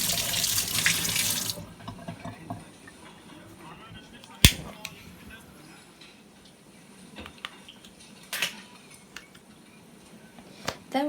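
Tap water gushes loudly for a couple of seconds as prawns are rinsed in a kitchen, then cuts off, leaving quiet room sound with a few sharp clicks and knocks.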